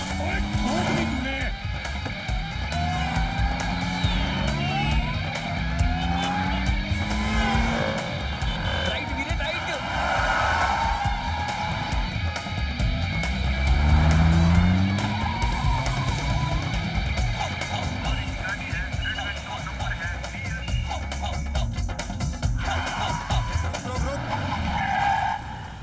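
A stolen car speeds away in a chase scene, tires skidding and squealing with sweeping engine tones, loud and continuous throughout while voices shout over it.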